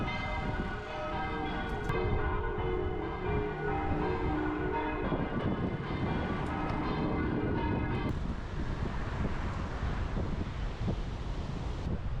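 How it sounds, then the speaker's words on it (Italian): Wind buffets the microphone during a bike ride past wine cellars near Buttrio, a steady broadband rumble running the full length alongside ringing bell-like tones early on, with no talk. "C'è un po' di vento contro."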